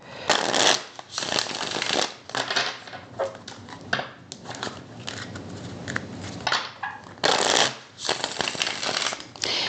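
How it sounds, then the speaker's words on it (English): Tarot cards shuffled by hand during a pick-a-card reading, a close, steady stream of crisp riffling and slapping bursts that keep going with short pauses between rounds. "let me finish shuffling the cards before I get too lost in this energy over here."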